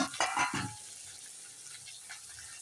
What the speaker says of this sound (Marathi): ओला मटार असतो ना, तेलात घातलं की लगेच फुटायला लागतो.